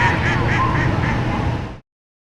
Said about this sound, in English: Here at Lansdowne, we have lots of ducks.